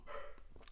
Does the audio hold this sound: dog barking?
yes